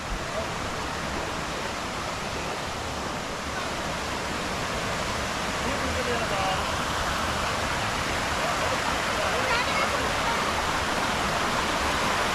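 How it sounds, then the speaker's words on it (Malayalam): Kumbhavurutty waterfall roaring in a steady, loud, unbroken rush of falling water, close by and constant throughout, with no voices breaking through. "വെള്ളച്ചാട്ടം കൊള്ളാം. അതാണ് കുംഭവരട്ടി ഫാൾസ്."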